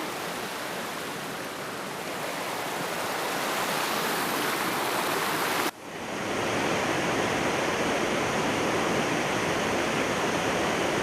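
Dense, constant roar of the Muara Karing waterfall near the swift Batang Merangin river in Jambi, loud and close, with a brief dip midway before the rushing wash resumes unbroken.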